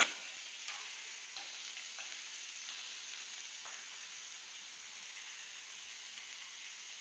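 Chicken being basted sizzles softly on a grill, a faint, even hiss of fat and marinade with a few light pops, steady throughout and without voices.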